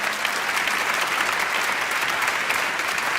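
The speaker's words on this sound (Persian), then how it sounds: "پدر عزیزشون هم تشویق کنی" An audience claps steadily through a studio talk show, a dense, even wash of applause at constant loudness with no voices over it.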